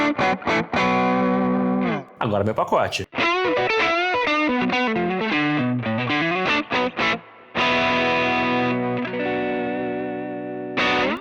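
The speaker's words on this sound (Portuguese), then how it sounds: "Mesma coisa para o som distorcido." Distorted electric guitar played through a Valeton GP-5 amp simulator rings out in loud, sustained chords and bending lead phrases, with a brief spoken remark at the start.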